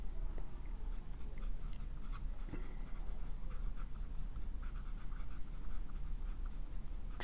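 A Monteverde Ritma fountain pen with an Omniflex nib scratches across paper while testing ink, a faint, steady close-up scratching with small taps and strokes throughout.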